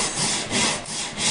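Hand saw strokes rip along the grain of a wooden workbench top, each stroke a close, loud rasp that swells and fades in an even back-and-forth rhythm, with no voices.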